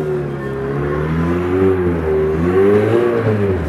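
Rock crawler engine revving hard while climbing a course at an off-road crawling competition in Japan, a close, loud, wavering roar rising and falling in pitch, with no talk over it.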